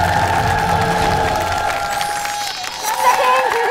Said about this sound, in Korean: 최선을 다하는 후임께 여러분 큰 박수 부탁드리겠습니다.